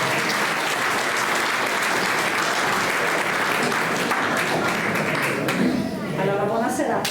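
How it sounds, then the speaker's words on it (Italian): An audience applauds a young orchestra at an evening event, dense and sustained clapping from a crowd that fades slightly toward the end, with a voice speaking near the close. "Un applauso a Risangela."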